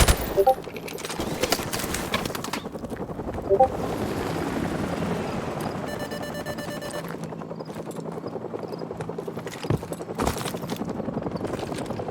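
Helicopter in Call of Duty 4, hovering amid heavy machine-gun fire and bursts of gunshots in a battle, with a steady rotor drone under the loud shooting and shouted voices.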